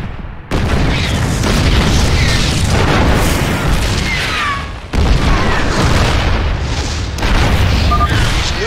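Siege tanks in StarCraft II shelling Protoss photon cannons, a dense, continuous barrage of heavy booms and blasts rolling on throughout, loud and close, with a brief pause midway before the bombardment resumes.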